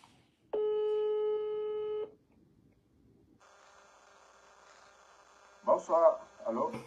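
A telephone call tone sounds as someone dials out: one steady ringing tone lasting over a second, then a quiet line hum, before a voice briefly speaks near the end.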